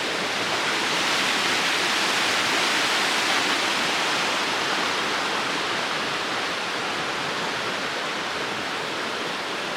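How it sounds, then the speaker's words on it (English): A creek or river in Glacier National Park rushes past beside a bridge, giving a constant, loud broadband roar of flowing water that stays steady the whole time with no talk. "on the other side of the bridge, the creek goes on. Or the river."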